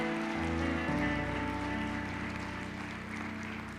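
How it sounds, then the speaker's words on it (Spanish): A church congregation applauds in a dense, steady wash of clapping that sounds almost like heavy rain, with sustained musical tones underneath. "Dale ese otro aplauso al Rey de Reyes."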